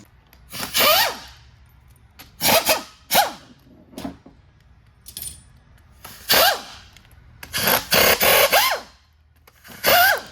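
Bursts of a socket wrench loosening perimeter and cap bolts on a 13-speed Eaton Fuller truck transmission during teardown: sharp ratcheting clicks in short separate spurts, close and loud, with quiet gaps between.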